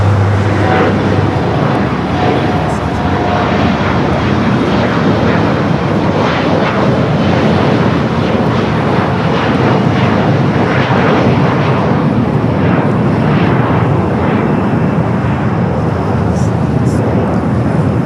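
Boeing 787 Dreamliner jet taking off from runway 25 right at LAX, a loud, steady broadband engine roar that holds throughout, with radio voices heard faintly underneath.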